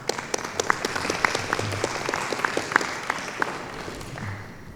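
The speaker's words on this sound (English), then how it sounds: "So a round of applause for the final team." Audience applauding at a computer vision workshop session, a moderate room's worth of clapping with distinct sharp claps standing out over a steady patter, sustained throughout without talk.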